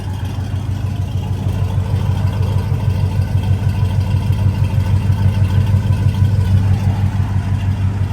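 An old Chevrolet/GMC squarebody pickup engine idles steadily just after starting, a loud, close, even rumble throughout with no talk over it.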